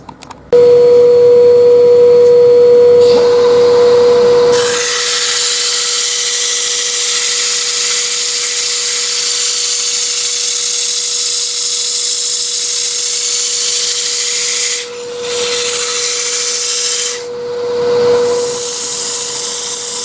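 A power sander works over a turned leylandii wood vase, a steady loud whirring hiss with a constant tonal whine, briefly dipping and restarting near the end, with no voices.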